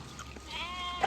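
A sheep in a rural herding setting gives one short, close, wavering bleat in the middle of the clip. Quiet outdoor background follows, with no talk.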